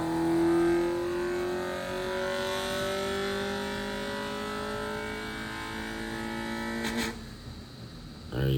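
A car engine revs steadily upward in pitch on a dynamometer, loud and close, then cuts off abruptly near the end as the revs drop away.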